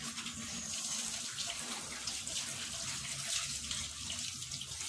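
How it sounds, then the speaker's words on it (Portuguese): Hands washed under a running tap before serving at a Catholic Mass, a steady splashing stream of water pouring into a sink, close and continuous with no speech. "Primeiro, é claro, você lava a mão de vocês."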